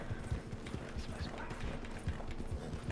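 A horse wades through water, its hooves striking in quick, irregular thuds and splashes at close range, with people's voices talking over the sound.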